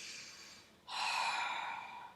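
A Pilates student draws a long, breathy inhale during a hip circle, audible close to the mic after a softer breath, the airy rush swelling and holding steady.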